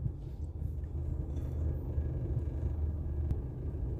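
Low steady rumble of road traffic from inside a car stuck in a jam in Riyadh, with engines idling and creeping along and no voices.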